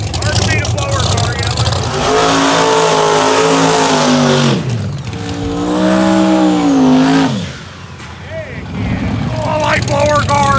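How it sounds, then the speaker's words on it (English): A loud supercharged drag race car engine roars and revs through strong rising and falling harmonic sweeps at a no-prep drag race at Benton Speedway, with excited voices shouting over it. "Hard to beat a blower car"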